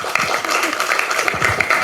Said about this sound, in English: A round of applause for Vanitha.